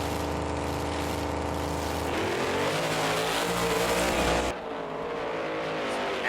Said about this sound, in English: As the trucks leave the starting line